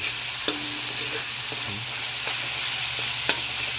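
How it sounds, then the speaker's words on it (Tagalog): Ground meat sautéing in a pan for a vegetable coconut-milk dish, a steady broadband sizzle with occasional spatula scrapes and clicks against the pan, close and continuous with no talking. "giniling atong gisahon kay arong lami gyud kaunon"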